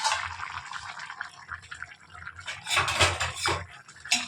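A metal lid lifted off a cooking pot of simmering chicken parts in a home kitchen, with a few close clinks and scrapes of metal followed by bubbling and stirring noises.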